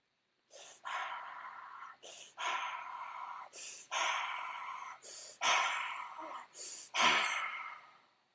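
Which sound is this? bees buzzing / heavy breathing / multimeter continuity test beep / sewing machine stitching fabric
heavy breathing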